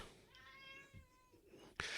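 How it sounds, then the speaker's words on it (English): A house cat gives one drawn-out, tonal meow close by in a quiet indoor room, followed by a sharp clatter at the end. "Oh, here comes the cat."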